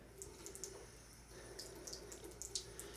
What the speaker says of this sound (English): And I will add a little bit more water here.